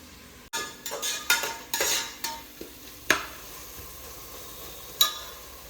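Tomatoes cook in a hot pan while bisi bele bath is made, with a steady soft sizzle under repeated stirring and utensil scrapes and clinks, ending in a couple of sharper taps.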